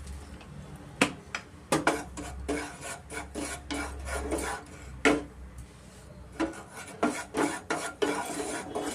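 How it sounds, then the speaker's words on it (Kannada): Chiroti rava and poppy seeds are dry-roasted in a pan, with a ladle scraping and rasping across the metal in quick, irregular strokes and the dry grains rustling between them, close and fairly loud. "ನಾನು ಇವಾಗ ಮೊದಲಿಗೆ ಚಿರೋಟಿ ರವೆ ಮತ್ತು ಗಸಗಸೆನ ನಾವು ಸ್ವಲ್ಪ ಹುರ್ಕೊತೀನಿ"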